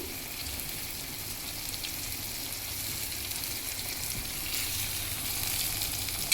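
Goat liver fries in a pan with ginger garlic paste for a traditional Telangana blood fry, giving a steady, dense sizzle that holds evenly and grows slightly louder toward the end, close and alone with no talking.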